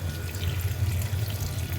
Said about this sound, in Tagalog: At syempre lalagyan natin ng tubig para lumambot na yung para palambutin yung ating mga gulay.